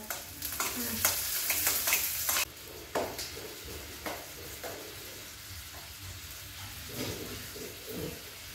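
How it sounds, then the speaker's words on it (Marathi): Red chillies are tossed into a hot pan and fry with a loud sizzle that drops off after a couple of seconds, leaving softer crackling and stirring scrapes. "मिरच्या संपल्यात, मग लाल होत्या त्या टाकते आता"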